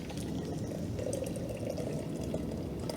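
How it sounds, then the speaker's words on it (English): Turmeric and tamarind juice is poured through an ordinary kitchen sieve, making a steady, soft liquid trickle and splash that runs without a break. "Pour the juice through."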